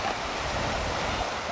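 Sea surf at the Gold and Juno beaches in Normandy, a continuous broad wash of breaking waves with some wind noise, steady and fairly loud, without voices.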